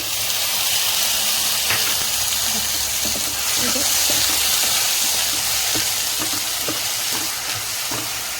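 Ground onion paste sizzles steadily in hot oil, a loud, dense frying hiss with occasional spoon scrapes and clicks throughout.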